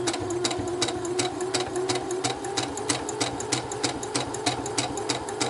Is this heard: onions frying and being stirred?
no